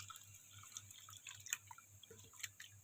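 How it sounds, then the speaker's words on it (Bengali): Water drips and splashes faintly in a kitchen sink as rice is rinsed before cooking fried rice, scattered small droplets and trickles over a low steady hum, no talk. "প্রথমে আমি চাউলটা ধুয়ে নেব।"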